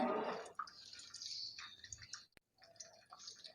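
Two kachoris are frying in hot oil. The bubbling and sizzling is close and crackly, with a louder burst at the start, a brief gap, and then a steady fizz.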